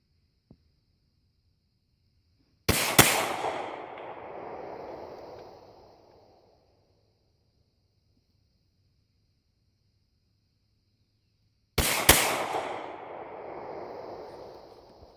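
Two sharp, loud pistol shots fired about nine seconds apart, each cracking alone and then trailing off in a long echoing decay, with near silence between them and no talking.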